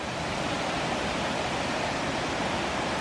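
Rushing water from Skra waterfall in the mountains of Greece forms a continuous, full-bodied roar, constant in level from start to finish, with nobody speaking.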